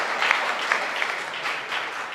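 An audience at a Hindi poetry recital claps steadily for about two seconds, a dense even patter of many hands with a few sharper claps standing out, heard from inside the hall.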